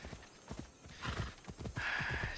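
Phobos, the horse in Assassin's Creed Odyssey, gallops in with rhythmic, close hoofbeats and ends with a loud neigh.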